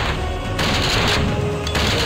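Loud, dense shotgun fire in the Sega Saturn survival horror game Deep Fear, a near-continuous roar of blasts with sharper bursts about every half second and no pauses.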